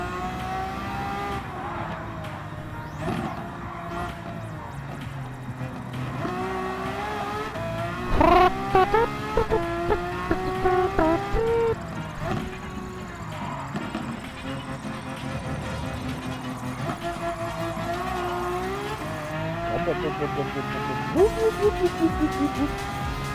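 Race car engines in Gran Turismo 7 rev high and shift through gears, with a few sharp bursts of tire squeal, while someone talks over the racing from time to time.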